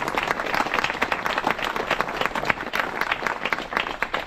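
Crowd applause at a park centenary re-enactment event, a dense, steady patter of many hands clapping at close to middle distance, sustained and fairly loud throughout.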